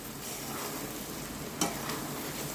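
Whole green chillies and ground black pepper frying in a pan for Kashmiri chicken masala, a close, even sizzle with a single sharp stirring scrape, no speech.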